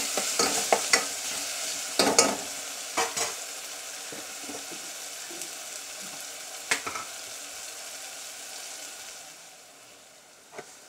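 Cluster bean curry with coarse ground peanuts is stirred in a sizzling pan, with loud spatula scrapes and clatters early on before fading to a softer, steady fry.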